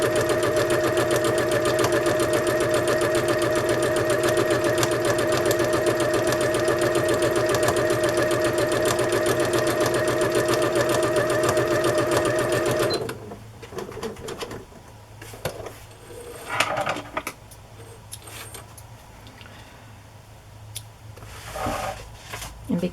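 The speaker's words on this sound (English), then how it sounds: "I'm just going to sew a basting stitch, the longest stitch on the machine, right down the middle of this, with no back stitching" Sewing machine running a long basting stitch with no backstitching, a loud steady mechanical hum with fast rhythmic clatter for about thirteen seconds, then stopping and giving way to quieter handling sounds.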